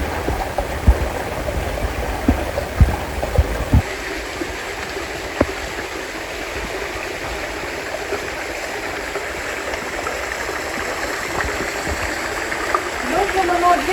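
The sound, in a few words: mountain streams flowing together, La Caldera de Taburiente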